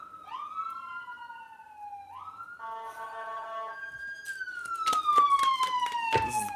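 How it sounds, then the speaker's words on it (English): Emergency vehicle sirens wail near a hospital, one long descending tone followed by a yelping pattern and another sweeping siren, clear and moderately close with no talk. "Excuse the sirens. I live by a hospital."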